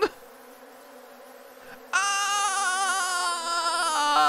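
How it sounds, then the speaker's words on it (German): A swarm of bees buzzes in a video game, first as a faint thin hum. After a sudden jump it becomes a loud, dense, wavering drone that lasts to the end, with no talking. "Doch plötzlich hörst du ein Summen. Es kommt näher und näher. Plötzlich sind da Tausende von Bienen."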